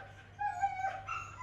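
A dog at an airport held for quarantine gives a short, thin whimper, a faint high whine rising and falling briefly in a quiet room.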